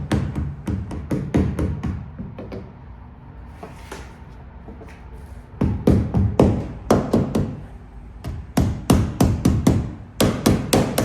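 Rubber hammer tapping a part into place on a 1970 Chevelle, a quick run of sharp, close knocks that pause briefly mid-clip before resuming in steady bursts of blows.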